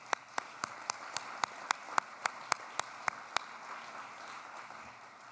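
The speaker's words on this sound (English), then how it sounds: "So why don't we give them a round of applause?" Audience at a university awards ceremony clapping in slow, evenly spaced beats, about a dozen sharp claps that then give way to a soft wash of background noise.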